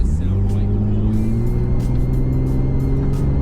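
A Mercedes S320L accelerates with a steady, rising engine drone, strong low harmonics climbing slightly in pitch as the car pulls, heard close from inside the cabin with some faint background noise.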